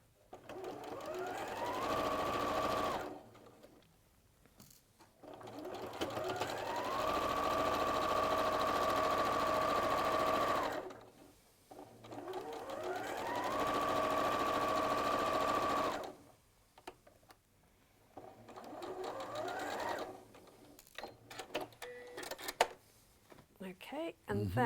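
A sewing machine stitches the last seam of a pillow in three long, steady runs of motorized whirring, separated by short pauses for handling the fabric, and lighter rustling follows near the end.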